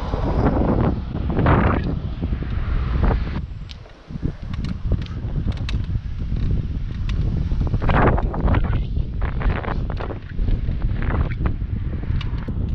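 Strong coastal wind roars and buffets against the microphone while cycling along the shore road out of Calvi, a loud continuous rush with gusting surges and brief dips.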